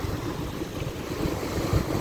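Waves wash onto a beach in winter as the water settles, giving a soft, steady rushing surf with low rumbling swells, brief and without voices.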